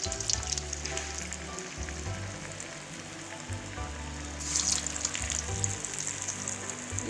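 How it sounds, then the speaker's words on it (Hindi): Cauliflower and onion kofta frying in hot oil over low heat, a steady soft sizzle and crackle with faint bubbling bursts throughout, no voices. "अब मैं इनको फ्राई कर रही हूँ"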